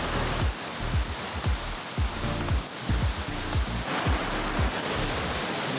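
Waterfall in New Zealand's Nelson Lakes backcountry, a steady broadband roar of falling water rushing on without pause, with repeated low thumps and buffeting, loud and close.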